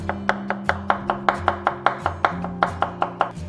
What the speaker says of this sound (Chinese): 削好过后我们先切薄片， 然后改刀切丝，尽量就是越细越好